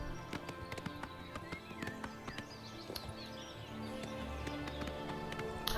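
Horse hooves clip-clop at a quick galloping rhythm in the video game Oblivion Remastered, steady and moderately close, with faint bird chirps in the background.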